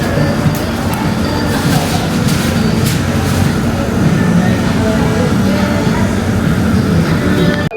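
A metro train roars loudly and steadily close by at a station, with a continuous rumble and rattle.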